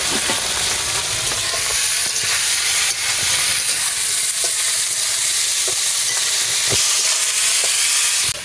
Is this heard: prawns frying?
yes